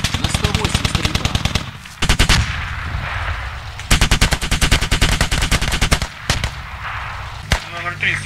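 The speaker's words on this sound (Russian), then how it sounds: "На 108 стрельба." Heavy automatic gunfire in the military shooter Squad, long rapid bursts of machine-gun fire with short pauses and single sharp shots, loud and close, with players talking over it.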